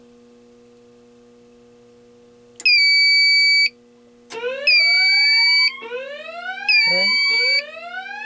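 A home fire alarm system under test sounds repeated loud electronic tones in separate bursts, some with rising sweeps, over a steady low mains hum, with a single brief spoken word before the first burst.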